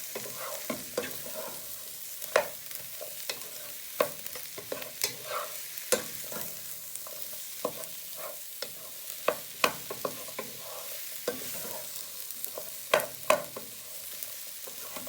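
Peppers and mushrooms stir-fried in oil for fried rice: a steady low sizzle broken by frequent sharp scrapes and clacks of a utensil tossing the food, close and continuous.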